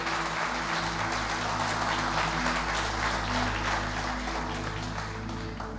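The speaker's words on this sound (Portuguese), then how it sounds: "Eu quero que você aplauda bem forte o nome dele." A church congregation applauds in a steady, sustained wash of clapping heard from within the crowd, with a low background hum beneath.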